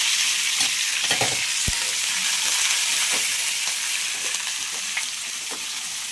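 Chili and curry leaves sizzle in hot oil in a frying pan for pesarattu, a loud continuous hiss with occasional pops and stirring clicks, no voices.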